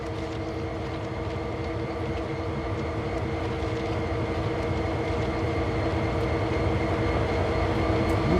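SD40-2 diesel locomotives in a train-simulator game, climbing a steep grade: a steady, loud diesel engine drone with layered low harmonics and a rumbling rhythmic undertone, continuous throughout with no talking.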